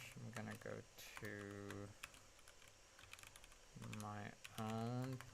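Keys clacking on a computer keyboard in short irregular bursts during a live stream, with a man's nervous speech and harmonic voice segments breaking in between the typing.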